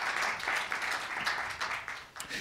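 A live audience applauds freely throughout a Winnipeg community tribute to elders, a steady wash of many hands clapping at moderate distance with a few bursts and a slight dip near the end.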